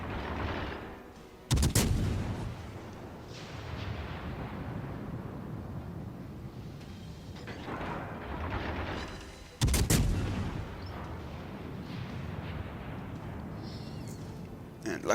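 Naval gunfire in World of Warships Legends, two heavy booming salvos several seconds apart, each followed by a long rumbling decay, with a rolling battle din in between.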